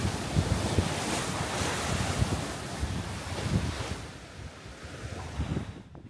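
Wind-driven waves slap and wash continuously against the shore of a broad lake lined with willows, with gusty wind buffeting the microphone throughout and a slight lull near the end.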